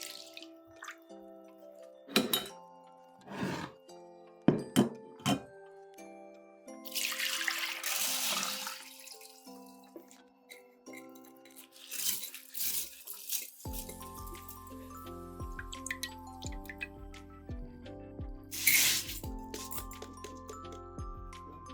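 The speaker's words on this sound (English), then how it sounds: "Add water to rinse the rice, then drain it once the water turns cloudy." Water splashes and trickles as rice is rinsed in a bowl, with scattered drips and swishing, then a steadier pour as it drains away, fairly close and quiet.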